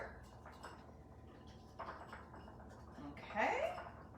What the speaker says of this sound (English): So I'm just whisking that together.